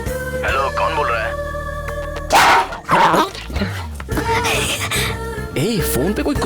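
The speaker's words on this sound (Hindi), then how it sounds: "फोन पे कोई कुत्ता भौंक रहा है।" Dog barks and yelping whimpers come in uneven bursts, sounding close and slightly boxy as if through a phone, mixed with vocal noises.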